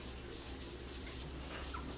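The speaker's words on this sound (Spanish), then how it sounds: "Vamos a agregarle agua" Water pours steadily into a blender jar holding chopped cucumber, a continuous close splashing and trickling rush with no talking.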